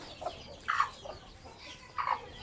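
Chickens cluck in short separate bursts, a few calls spaced across the moment, fairly close, over quiet background noise.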